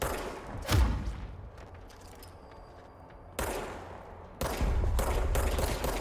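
Gunfire in the video game Control, fired at creepy golem enemies: a few loud, separate bursts of shots and thumps, with quiet gaps between them.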